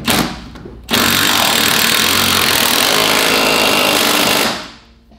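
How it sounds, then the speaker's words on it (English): A small impact wrench tightening greased cab mount bushings on a Ford Powerstroke truck, one loud, close, continuous hammering rattle lasting several seconds before winding down. "We use our little impact to get it tight."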